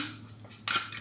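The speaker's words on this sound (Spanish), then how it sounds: "Desmigamos el atún" Canned tuna being flaked apart with a utensil: a short, soft scraping and squishing, ending in a brighter clink-like scrape against the container.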